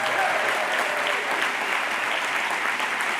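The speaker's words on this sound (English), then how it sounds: "give one more round of applause for all of our honorees" An audience at an awards ceremony gives sustained, even applause for honorees, a dense wash of clapping that stays close and loud for the whole stretch with no talk over it.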